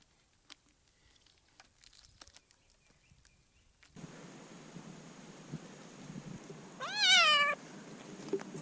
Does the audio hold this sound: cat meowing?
yes